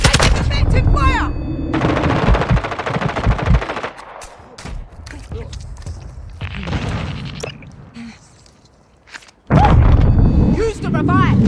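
Gunfire in the video game Warzone: loud, dense bursts of automatic fire and sharp shots, dropping to quieter stretches before a heavy renewed volley, with voices shouting over the action.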